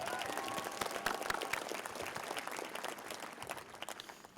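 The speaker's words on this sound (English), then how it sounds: "Yeah, we can clap." Sustained applause from the audience at a high school graduation ceremony, a dense wash of clapping that holds steady and then fades toward the end.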